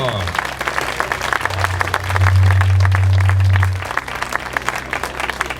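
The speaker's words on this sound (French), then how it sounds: "on fait un tonnerre d'applaudissements encore, amis publics" An outdoor crowd claps steadily at a triathlon long-distance award ceremony in the Jura, with a brief swell of louder applause in the middle while an announcer talks over it.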